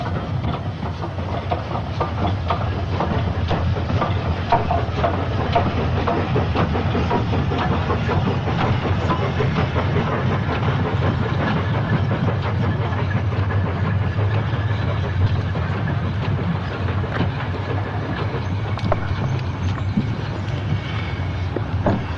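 Steam locomotives 78018 and 78060 running light to the sheds at Shrewsbury after bringing a ballast train from Nantmawr Quarry, a continuous loud rumble and rattle of engines and wheels lasting throughout with no voices.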